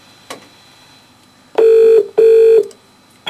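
A phone line rings out on a call to a Pizza Hut in Southport, UK: two loud, even bursts of ringback tone in a close double-ring pattern, clean and without talk.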